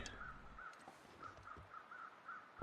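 Crows cawing in the survival game The Long Dark, a series of rasping calls repeating in quick succession at a moderate distance over quiet ambience, ending in a brief thump.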